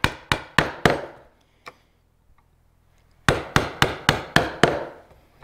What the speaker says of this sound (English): hit that chisel like you mean it.